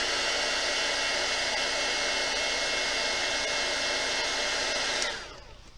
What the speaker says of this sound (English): Then you take your heat gun,